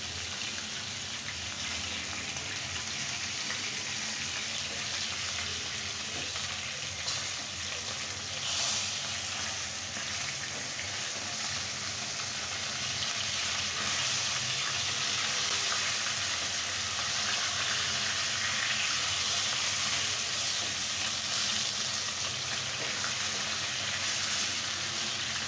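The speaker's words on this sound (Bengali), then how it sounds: "আমার মাছগুলা ফ্রাই হয়ে গেছে, দেখতেই পাচ্ছ তোমরা।" Fish fries in a pan with a steady, dense sizzle that holds at an even, fairly loud level throughout, close up and without talk.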